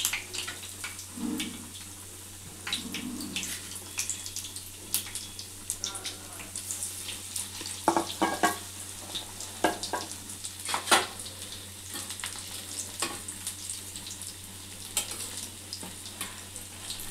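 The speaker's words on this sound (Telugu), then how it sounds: "ఇది రెండో వాయి కూడా సేమ్ ఇదే విధంగా వేసుకొని ఇట్లా గోల్డెన్ కలర్ వచ్చేంత వరకు వేయించుకోవాలి" Ajwain leaf bajji fritters deep fry in hot oil, giving a bubbling crackle with frequent sharp pops and occasional utensil clinks over a steady low hum, close by and without speech.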